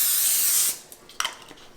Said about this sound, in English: We'll take a little olive oil spray.